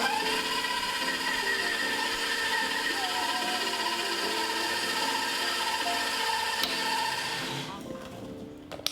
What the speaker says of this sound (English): we're gonna get started with the mixing. So with my handy dandy KitchenAid,